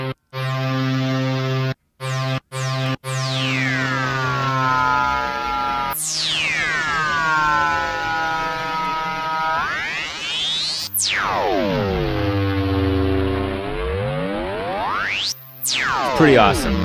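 A Malstrom synthesizer with its resonance turned up produces ring-modulator-style amplitude modulation, opening with a few choppy bursts and then long metallic tones that swoop down and back up in repeated sweeping glides.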